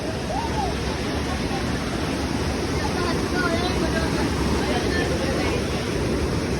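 The Hathini Mata waterfall in Panchmahal, Gujarat, rushes in a steady, dense roar of falling water that stays constant and fills the whole scene from start to finish.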